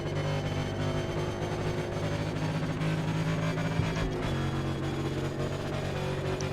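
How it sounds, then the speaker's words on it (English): Damaged Roush Yates engine in a Gen 7 NASCAR Cup Series race car at Charlotte, a steady, loud drone with low harmonic tones that runs unbroken throughout, close by, with no talk over it. "My Roush Yates engine sounds like manure."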